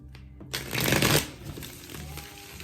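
Tarot cards riffle-shuffled close up, a dense burst of papery flutter lasting about half a second, followed by softer handling and light taps.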